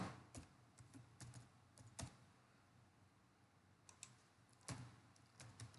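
Keys are typed on a computer keyboard while an online application form is filled in. Sparse, quiet clicks come in small irregular bursts with pauses between them, against a faint room hum.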